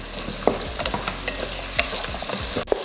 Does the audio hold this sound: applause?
no